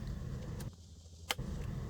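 A Tesla-to-J1772 mini charging adapter is pushed onto a Tesla mobile connector rated at 32 amps, giving a single sharp plastic click over a steady low hum of the surroundings.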